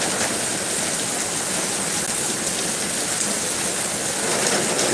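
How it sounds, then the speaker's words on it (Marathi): Heavy rain pours steadily at a goat farm, a dense, unbroken hiss of falling water that stays loud and even throughout with no voices. "काय मोकार पाऊस चालू आहे"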